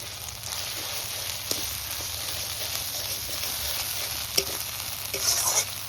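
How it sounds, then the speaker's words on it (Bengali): Fried shrimp go into a hot pan and are stirred, giving a close, continuous sizzle with a few sharp scrapes and clinks of the spatula toward the end. "ভাজা চিংড়ি মাছগুলো দিয়ে দিচ্ছি।"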